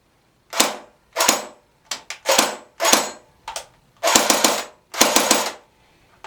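A CYMA CM049 MP5 airsoft gun with blowback fires several rapid mechanical bursts, each a sharp rattling clatter lasting under half a second, loud and close with brief silences between.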